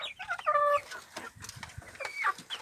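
Chickens on a farm cluck in a few scattered calls, with a clear squawk near the start and another near the end, fairly faint and with no talk.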